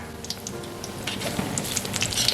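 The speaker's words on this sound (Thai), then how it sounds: "ต้องใช้ไฟกลางค่อนไปทางอ่อนนะคะ ค่อยๆทอดไปนะคะ" Egg-battered long eggplant fries in oil over medium-low heat, giving a steady soft sizzle with scattered light crackles and pops that grow slightly busier toward the end, close and fairly quiet.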